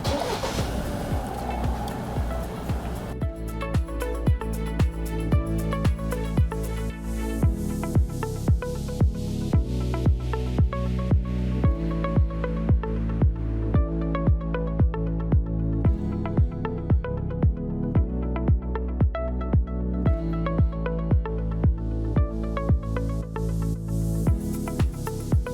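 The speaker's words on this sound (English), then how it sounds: "Module will activate, ignitions will come on, and it'll start in a few seconds." A Ford Bronco Sport with an aftermarket push-to-start remote start system runs at a steady idle, a loud, even engine drone that continues unbroken from start to finish with no voices.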